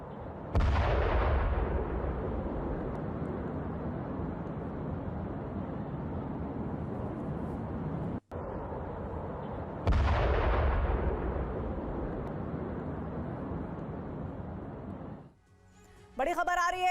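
Iranian IRGC supersonic missile launch, two long roaring blasts of rocket exhaust, each starting with a sudden loud burst and holding a dense rumbling roar for several seconds, followed by a brief voice at the end.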